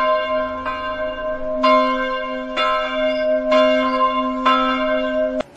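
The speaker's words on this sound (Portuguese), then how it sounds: "Os sinos das igrejas começaram a tocar" Church bells peal loudly and clearly, with about five or six resonant strikes ringing out one after another and each tone sustaining into the next, with no voices present.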